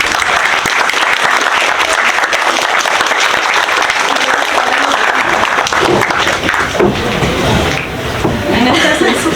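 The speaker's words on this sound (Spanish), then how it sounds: "Muy bien, un aplauso." Audience applause at a graduation ceremony during an economics lecture, steady dense clapping filling the room from start to finish, with some voices mixed in.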